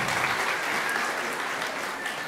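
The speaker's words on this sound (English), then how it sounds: "Give them a round of applause for that." Audience applause at an elementary school kindergarten celebration, a steady wash of many hands clapping at moderate loudness without a break.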